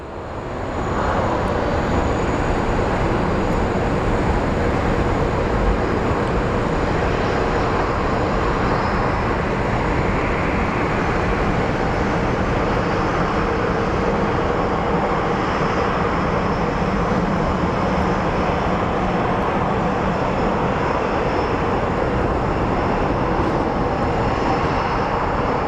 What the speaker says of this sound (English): So I think the Sioux Falls plane is finally starting to move.